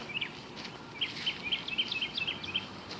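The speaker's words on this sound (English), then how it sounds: "You hear the birds chirping." Birds in a park give quick, high chirps in short bursts over a soft outdoor hum, fairly close and clear.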